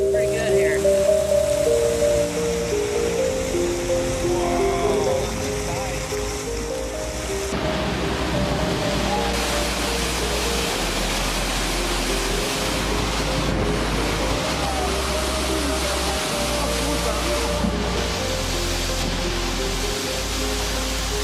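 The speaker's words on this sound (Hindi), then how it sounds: "ये है बर्फ का सैलाब।" Rushing water from a glacier ice flood roars continuously, with chunks of ice breaking off and tumbling in, plus heavy wind buffeting the microphone throughout.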